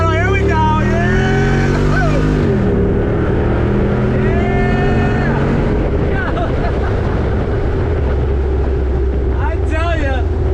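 A 2021 Jeep Wrangler Rubicon 392 accelerating hard under throttle, a loud, deep engine roar rising in pitch through gear changes, heard from inside with a voice talking over it.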